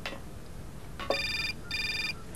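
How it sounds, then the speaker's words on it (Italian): Telephone ringing in the Syberia video game, two distinct electronic ring bursts heard alone against a faint ambient background. "Telefonata!"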